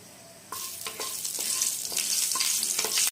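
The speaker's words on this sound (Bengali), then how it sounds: "আর এটা ততক্ষণই ভাজবো যতক্ষণ না এটা থেকে একটা খুব সুন্দর গন্ধ বেরোয়।" Cardamom, a piece of cinnamon and mace fry in hot oil in a pan with a steady sizzle, while a spoon stirs them in regular scraping strokes, close and fairly loud.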